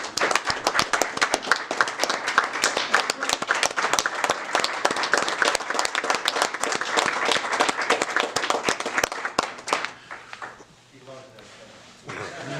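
Applause at a city council meeting: a crowd claps steadily and loudly for several seconds, then the clapping tapers off abruptly into quiet room sound with a voice beginning.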